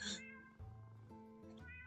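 Cat meows inside the video game Echoes of Love in Dialtown, a few short tonal calls in quick succession over a steady game music bed, clear and close.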